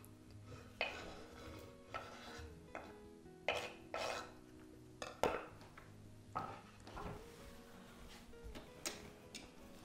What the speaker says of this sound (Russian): закидываем сосисочки